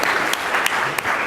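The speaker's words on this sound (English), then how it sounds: "You can applaud him, he's awesome too." Audience applause at a business conference on e-commerce, a steady wash of clapping from a crowd that runs continuously with a few sharper claps standing out, with no talk over it.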